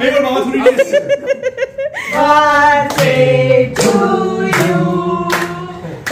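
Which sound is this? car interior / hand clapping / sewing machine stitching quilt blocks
hand clapping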